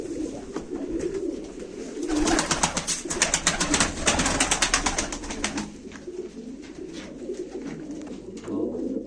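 Pigeons at a live Turkish pigeon auction coo repeatedly at close range, with a busier burst of cooing and wing or cage rustle in the middle and a steady low murmur of background noise throughout.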